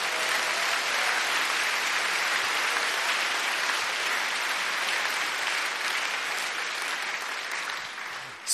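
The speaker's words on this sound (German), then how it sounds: "Kräftigen Applaus für unseren Profi" Audience at a science event in Berlin gives strong, sustained applause, a dense even roar of clapping that holds steady before tapering off at the end.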